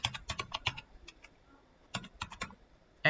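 Someone types on a computer keyboard in quick clattering bursts of keystrokes, pauses for about a second, then taps out another rapid run. The sound is close but fairly quiet, with no voices.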